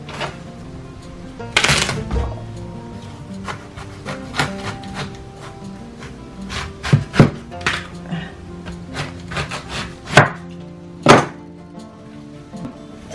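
A knife slicing through a watermelon along its dark stripe, with a scatter of sharp cutting snaps and thuds and a few louder chops, close and fairly quiet with no talking.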